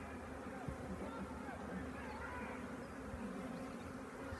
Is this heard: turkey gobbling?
no